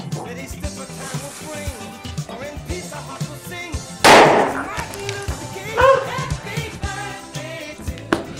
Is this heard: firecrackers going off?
yes